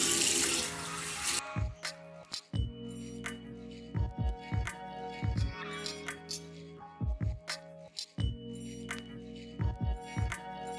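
Water from a sink tap runs and splashes during face washing, with a burst of steady flow at the start followed by repeated close splashes and drips in an irregular rhythm.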